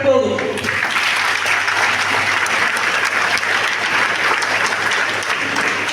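An audience at a national weavers' day event held by a Karnataka federation of weaving communities claps, a loud, dense and continuous burst of applause that runs the whole length at close range.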